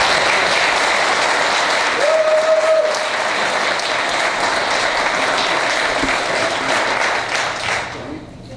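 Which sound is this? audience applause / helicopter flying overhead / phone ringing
audience applause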